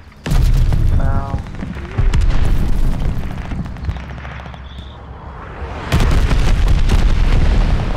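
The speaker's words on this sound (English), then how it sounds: "Friendly bombing run inbound." Bombing run explosions in a video game, heavy booming blasts that start abruptly and roll on loud and close, with a second wave of impacts near the end.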